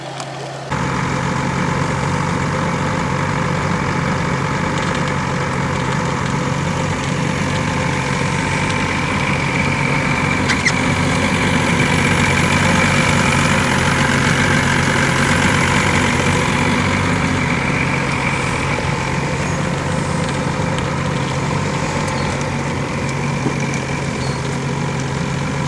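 A fishing boat's motor idles in a steady, loud, continuous drone while the boat is moved, heard close with no break.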